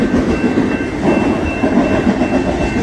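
A freight train rumbles past on the bypass rail north of Galesburg, a loud, close, continuous roar with rhythmic clatter of wheels and a faint high squeal, no voices.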